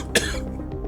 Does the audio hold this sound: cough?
yes